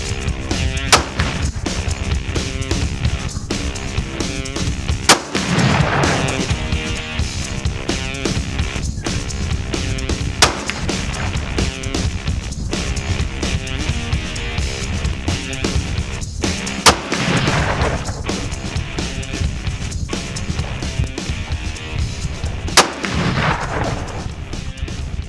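Five sharp rifle shots of handloaded precision long-range ammunition ring out, spaced several seconds apart, each a brief crack over a dense, steady background bed.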